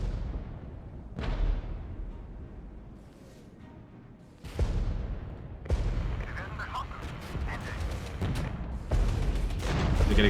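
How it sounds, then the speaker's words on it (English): Artillery shells land in the Cold War strategy game Regiments, several heavy booms spaced a second or more apart, each decaying into rumble, with crackling gunfire and a voice talking underneath. "They're getting engaged with artillery."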